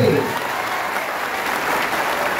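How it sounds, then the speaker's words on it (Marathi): A crowd at a stage event in Maharashtra breaks into loud, sustained applause, a dense wash of many hands clapping steadily for a couple of seconds, with a brief murmur of voices at the very start. "एकदा जोरदार टाळ्या द्या विचार मंचासाठी."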